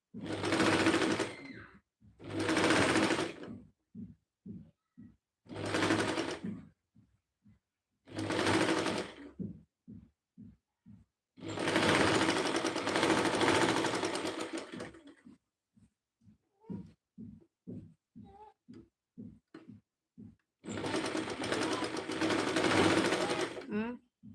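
A sewing machine stitches fabric in repeated loud, whirring runs of a few seconds each, separated by pauses filled with soft clicks and taps of the mechanism, with a longer run near the middle and another at the end.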